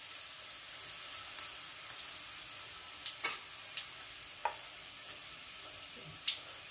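Shrimp frying in oil over low heat, a soft steady sizzle broken by scattered small pops and crackles, close and fairly quiet with no talk.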